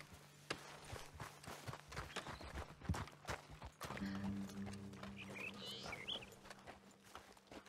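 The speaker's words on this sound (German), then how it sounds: "Die haben aber auch viele Pferde." Horses' hooves clip-clop in the western video game Red Dead Redemption 2, a run of close, uneven hoofbeats. A low steady hum and a faint tonal sound come in partway through.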